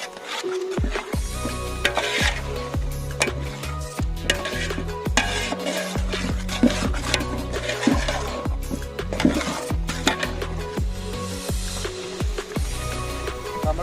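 Spice powders including turmeric, salt and ground garam masala being stirred into jackfruit biryani masala in a pan, a steady run of close scraping and clanking strokes against the metal with busy kitchen clatter throughout.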